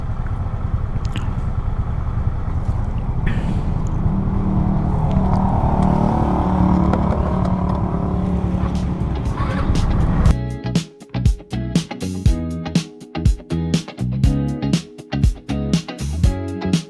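Motorcycle riding along a dusty road, a continuous close engine drone with wind rumble that shifts halfway through into choppier, pulsing engine and road noise with louder bursts.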